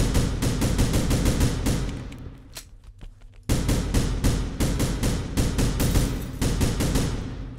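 Rapid automatic gunfire in the video game Final Station blazes in dense, loud bursts, pauses briefly with a few single shots, then resumes in sustained rattling volleys.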